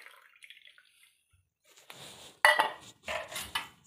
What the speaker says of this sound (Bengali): এবার আমি কিন্তু ডিমটার সঙ্গে দুধটা পুরো মিশিয়ে নেব।